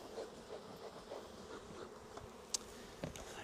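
Honey bees buzz steadily around an opened hive during a hive merge, a dense continuous hum with a few brief sharper clicks and knocks near the end.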